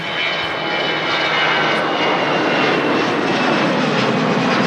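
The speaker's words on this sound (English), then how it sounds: "She's heading off on the way out. Milan. It's an A320. It's EasyJet Europe." An EasyJet Europe Airbus A320 with sharklet wingtips taking off at Manchester Airport, bound for Milan, its jet engines a loud, steady roar that holds throughout with no speech over it.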